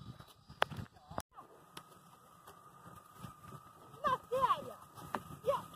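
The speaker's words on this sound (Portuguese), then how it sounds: "Ali tá o carro de boi." An ox cart moves along a rural track with intermittent knocks and hoof-like clops, while voices talk nearby and a bird calls toward the end.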